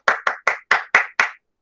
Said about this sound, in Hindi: एक बार पुनः जोरदार तालियां हो जाए।